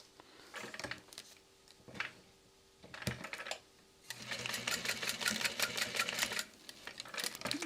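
A sewing machine stitches a 1/4 inch seam while assembling a fabric tag-along project, running in a few short stop-start bursts before settling into a longer, steady close-up run.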